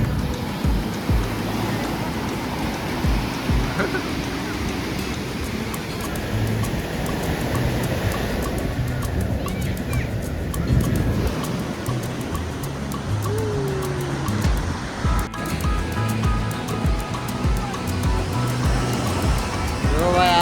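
Sea waves rolling onto a beach in Oman, a steady broad wash of surf throughout with background voices and distant traffic-like rumble mixed in.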